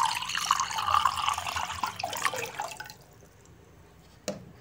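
Water is poured into a cooking pot on a lit stove while making a dragon fruit pudding, a steady splashing stream for about three seconds, then a quiet pause and one brief clink.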